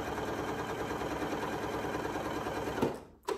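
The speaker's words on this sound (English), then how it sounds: "press down, and I'm gonna sew my seam." A Janome Memory Craft MC9450 sewing machine stitches a seam in a steady, fast, close-up run, then stops with a brief clunk at the end.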